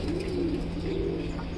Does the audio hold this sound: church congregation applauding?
no